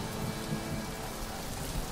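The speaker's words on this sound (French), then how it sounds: "je regardais les quelques gouttes de pluie qui commençaient à tomber" Steady rain falls as a thunderstorm builds, a dense, even hiss of drops that holds constant throughout without pause.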